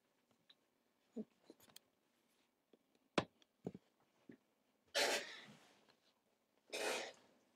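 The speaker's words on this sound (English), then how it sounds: "Cough a little." Coughing in a recording booth: scattered soft clicks and breaths, then a couple of sharp coughs and two longer, breathy throat-clearing bursts, quiet and close.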